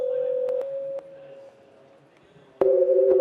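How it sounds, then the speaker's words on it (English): Sonified colour frequencies of the painting The Scream form steady electronic tones. A single sustained pitch with clicks gives way to a quieter stretch, then a louder cluster of close, beating microtonal tones returns. "This is the sound of the scream, for example, which is very microtonal."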